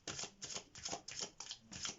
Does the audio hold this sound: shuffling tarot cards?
yes